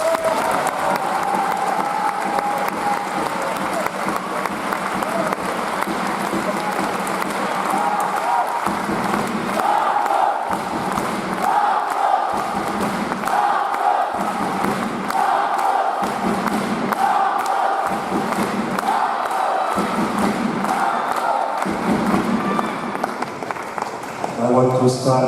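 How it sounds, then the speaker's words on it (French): Spectators at the close of a ProA table tennis match between ASPCTT and ANMTT applaud a departing champion: a loud, sustained crowd roar with rhythmic bursts of clapping and cheering voices mixed throughout. "je lui demande de l'applaudir vraiment très fort"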